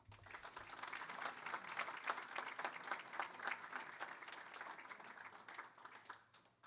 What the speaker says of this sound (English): Please give a big round of applause for Monique Sondag.